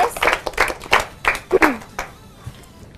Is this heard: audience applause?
yes